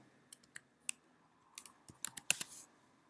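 Typing on a computer keyboard while building an iOS app in a simulator: sparse, quiet key clicks at first, then a quicker cluster of taps, close and alone without speech.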